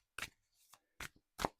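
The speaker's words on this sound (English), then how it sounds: "One more shuffle, one more cut." Tarot cards being shuffled and cut by hand, three or four short crisp riffles with brief pauses between, close and quiet with no talking.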